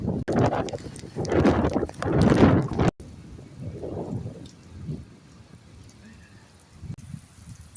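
Heavy rain pours down on a rooftop in a dense, loud hiss for a few seconds, then falls away to a softer, steady patter.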